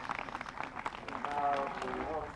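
Crowd applause from spectators in the arena at the Burghley horse trials, a soft scattered patter of clapping that builds slightly, heard at a distance beneath a commentator talking.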